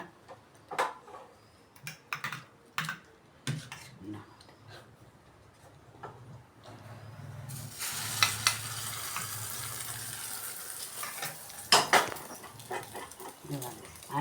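Beaten egg omelette mixture poured into hot oil breaks into a loud, steady sizzle of frying that keeps going, with scattered clicks and taps of utensils before and during it.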